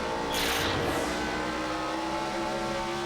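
NASCAR Xfinity Series race cars at Indianapolis Raceway Park in the 2007 Kroger 200, a loud engine roar heard from on board with a sharp whooshing surge early, then a steady drone.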